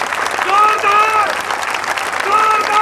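A crowd at a political speech in Kharkeda, Maham, Haryana bursts into sustained applause, with raised voices calling out over the clapping.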